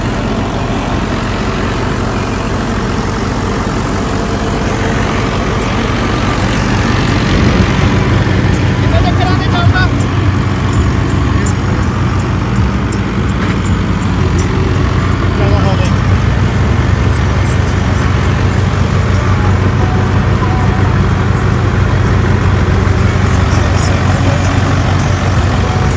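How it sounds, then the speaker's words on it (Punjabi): An Indofarm 3065DI side-gear tractor with a heavy front bumper runs steadily in high gear, a loud, continuous diesel engine drone throughout, with someone talking over it. "ਇਹ ਟਰੈਕਟਰ ਚੱਲ ਰਿਹਾ ਆਪਣਾ, ਅਤੇ ਇੱਧਰੋਂ ਹਾਈ 'ਚ ਚੱਲ ਰਿਹਾ"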